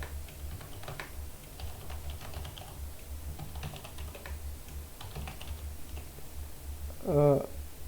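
Light clicks from a computer keyboard as terminal commands are typed to configure a Postfix mail server. The keystrokes are faint and scattered over a steady low hum, with one brief louder tone near the end.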